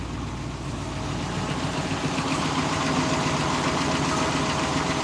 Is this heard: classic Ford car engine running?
yes